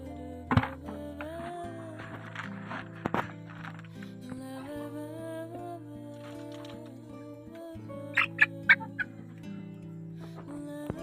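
Backyard chickens fed a mix of fresh grass cluck and call softly with low, steady clucking throughout and a few louder calls, while occasional clatter and movement sounds come from nearby.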